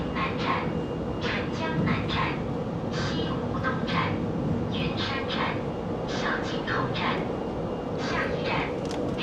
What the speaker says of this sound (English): See how fast this train does go.